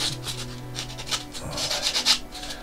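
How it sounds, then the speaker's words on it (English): A nail file sands small plastic parts from a 1/72 Airfix Tiger 1 model kit. Soft, close rubbing strokes come in an uneven back-and-forth rhythm, faint and with no talking. "So we're going to give it a go using a nail file."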